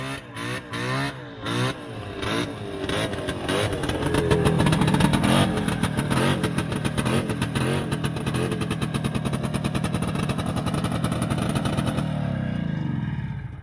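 A vintage Polaron Tornado snowmobile is ridden at a trail-ride meet on a lake, its engine buzzing and revving up before holding a loud, raspy drone that cuts off near the end.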